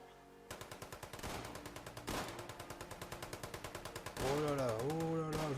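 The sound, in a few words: automatic gunfire emptying a full magazine in a video game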